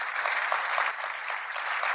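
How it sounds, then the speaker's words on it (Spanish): Steady, fairly loud applause fills the hall of the MCI Maracaibo Norte church congregation, many hands clapping at once in a continuous rush. "Así que denle un fuerte aplauso a los que son fieles"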